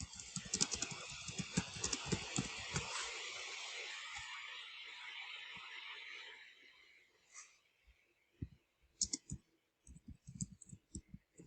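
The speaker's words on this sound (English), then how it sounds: "I'm going to go ahead and type my answers." Rapid clicking keystrokes of typing fill the first several seconds, then fade to quiet before a few sparse, separate key taps near the end.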